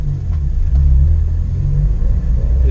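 Ford Fiesta ST driving on the road, a steady low engine rumble with road noise held close and continuous throughout, no talk.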